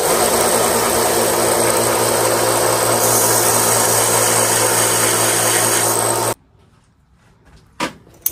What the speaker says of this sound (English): I gotta sand that smooth right there